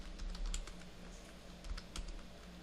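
Keys clicking on a computer keyboard as a change-directory command is typed into a Linux terminal, a quiet, close run of irregular taps with no voice.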